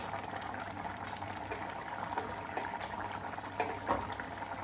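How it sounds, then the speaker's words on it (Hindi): Vegetable curry boiling in a pot, a steady bubbling and popping with occasional louder bursts, close and continuous with no talk. "इतनी सुंदर रंगत दिख रही है सब्जी की, थोड़ा सा और उबलेगा ना, आप लोगों को दिखाती हूँ।"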